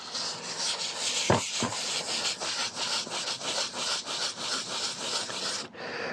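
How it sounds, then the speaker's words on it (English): Wet sanding of paint on a Harley-Davidson Dyna Super Glide fender, a steady close-up rhythmic rubbing scrape with repeated back-and-forth strokes and one brief knock early on, continuing with no voice until near the end. "I'm going to go ahead and unmask this, and then we'll wet sand it"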